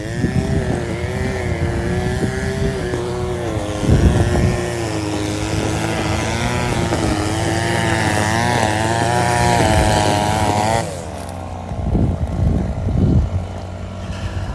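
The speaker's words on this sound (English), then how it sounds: "Just bear with the weed whackers and blowers." Weed whackers and leaf blowers run outside in a loud, continuous engine drone with wavering pitch for most of the span, then cut out and leave a few short bursts of rough engine noise near the end.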